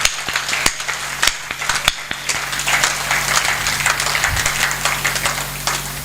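Audience applause at a Hindi poetry recital, a kavi sammelan for a poem on Veer Abdul Hamid, rises as dense, steady clapping with sharp individual claps scattered through it, loud and unbroken for several seconds with no speech over it.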